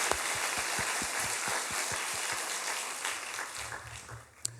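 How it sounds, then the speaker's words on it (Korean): Congregation in a church service applauds, a dense wash of clapping from many hands, with a few louder nearby claps standing out early before it tapers off. "하나님께 영광의 박수 드리겠습니다"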